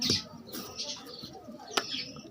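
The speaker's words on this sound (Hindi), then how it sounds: "इधर जंगली कबूतर है" Wild pigeons flapping their wings in quick, close bursts, with soft cooing and chirps in between.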